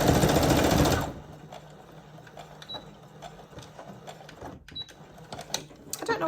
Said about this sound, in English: my sewing machine isn't liking some of this fabric for some reason